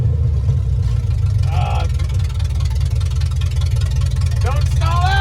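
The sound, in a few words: 1974 Ford F-250 360 big block engine idling after startup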